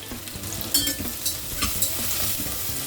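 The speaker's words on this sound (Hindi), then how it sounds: "प्याज को अच्छी तरह से गोल्डन ब्राउन भूनना है।" Thinly sliced onions frying with whole spices in a pan for nihari, a continuous close sizzle broken by a few sharp stirring clicks and scrapes.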